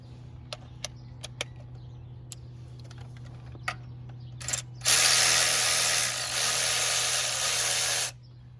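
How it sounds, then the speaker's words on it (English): A speed wrench ratcheting on a pulley bolt of a 1999 Chevy Silverado 1500 with the 4.8 engine: scattered sharp clicks, then a few seconds of fast continuous ratcheting buzz, close and clear without talking. "We'll use our speed wrench here."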